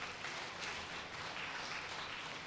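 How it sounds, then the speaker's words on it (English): Broad, steady applause from an audience at a university research festival honouring research advisors and mentors, a soft continuous wash of clapping heard from a distance with no talk. "let's give a round of applause to your respective research advisors"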